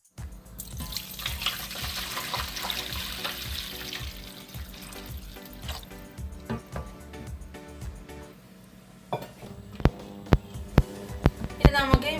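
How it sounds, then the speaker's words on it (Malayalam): Water pours steadily into a heated pot for Thalassery chicken dum biryani, a continuous splashing rush that slowly thins. Sharp metallic clinks and knocks from the pot follow toward the end. "നമുക്കിതിനകത്തേക്ക് നമ്മുടെ വെള്ളം ഒഴിച്ചു കൊടുക്കാം."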